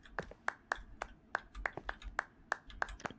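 Rapid, slightly uneven clapping from a character in an Exit 8-style clone game, a dozen or so close crisp claps in quick succession, moderately loud, with no speech over them.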